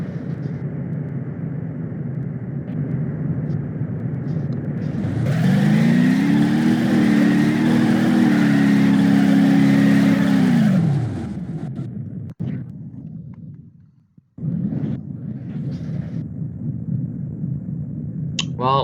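A car engine in the driving game BeamNG.drive swells into a loud, sustained rev for several seconds, holding a steady droning pitch before dropping away, followed by quieter engine rumble and brief mechanical noises.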